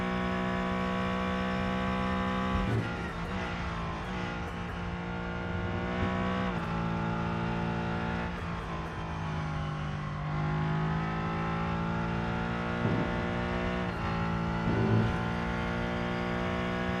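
Race car in the Rennsport sim racing game, a loud continuous engine drone with harmonics rising and falling through gear shifts and throttle lifts, heard steadily from the cockpit with no talk.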